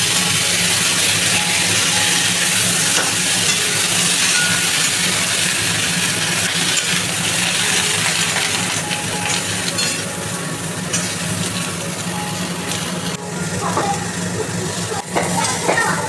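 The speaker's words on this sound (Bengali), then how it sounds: "আর ওই একটু তেলে এবার ফুলকপিটাও ভেজে" Cauliflower fries in oil for a fish curry, making a loud, continuous close-up sizzle and crackle with occasional stirring scrapes, dense and steady throughout.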